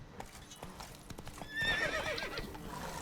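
The horse Roach in The Witcher 3, hooves clip-clopping in a rapid galloping rhythm, then a loud whinnying neigh rising over the hoofbeats midway, fairly close and clear with no talk.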